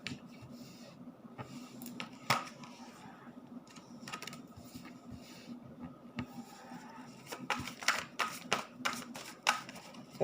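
Playing cards shuffled by hand during a tarot reading, soft close riffles and sharp flicking snaps in an irregular rhythm against a quiet room with a faint hum.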